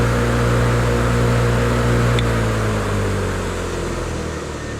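An old bench grinder fitted with a wire wheel and a buffing wheel runs with a loud, steady motor hum and whir, slowly lowering in pitch as if spinning down.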